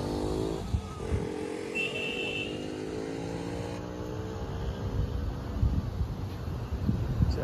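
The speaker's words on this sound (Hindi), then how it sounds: "जा रहे हैं अभी बाइक की टेस्ट ड्राइव करने" A motorcycle rides off on a test drive, its engine droning and rising in pitch as it pulls away, with wind buffeting the microphone.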